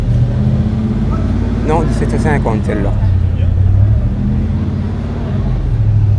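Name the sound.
Alfa Romeo car engine running at a car meet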